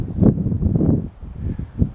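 Gusty inland wind on a hiking trail buffets the microphone in low, uneven rumbling bursts, loud and close, with no talking.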